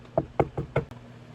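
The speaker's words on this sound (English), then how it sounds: "Knock on wood." Four sharp knocks on a wooden surface, evenly spaced and close, followed by a faint quieter tap, with no talking.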